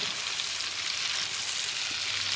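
Marinated pork intestines seasoned with soy sauce and seasoning powder sizzle steadily in hot oil, a dense, even crackle that stays close and constant throughout with no voices.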